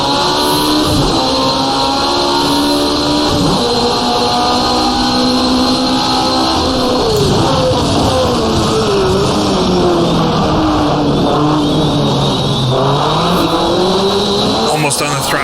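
A turbocharged 1985 CART Indy car in rFactor2 racing at Portland, its engine howling loud and close as revs climb and drop repeatedly through throttle lifts and shifts, with a steady high whine throughout.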